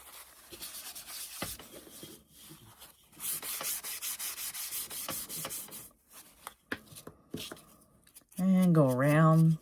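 A cloth rubs back paint on a small primitive Christmas angel figure, giving steady close scrubbing strokes in several bursts, with a brief voice near the end.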